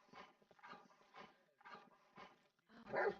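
A dog barks in a row of about six evenly spaced, fairly loud bursts, with the last bark the strongest, somewhere in the room during a live court session.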